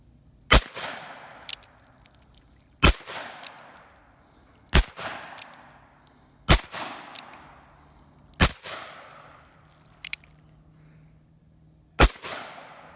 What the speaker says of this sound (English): all 6 shots, no misfires, no cap jams, nice and accurate